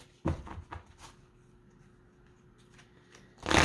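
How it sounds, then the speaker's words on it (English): A deck of energy cards is shuffled in a short riffling burst near the start, followed by quieter handling and a louder rustle at the end. "So let's pull some energy cards here"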